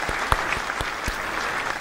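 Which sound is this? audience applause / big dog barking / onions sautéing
audience applause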